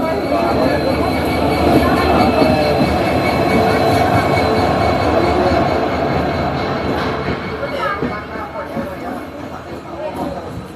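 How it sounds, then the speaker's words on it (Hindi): A passenger train runs on rails toward Saharanpur Junction, a loud steady rumble with clattering wheels and faint squeals that eases slightly near the end, heard close from on board. "ट्रेन अपनी पहुंच रही है सहारनपुर जंक्शन की तरफ"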